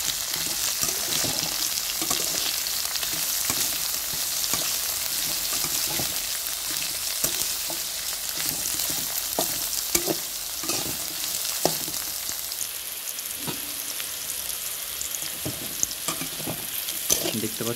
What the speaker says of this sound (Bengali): এগুলো সবগুলোকে এখন হালকা হিটে নেড়ে চেড়ে ফ্রাই করে নেব